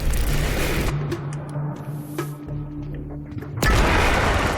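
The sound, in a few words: explosion in a video game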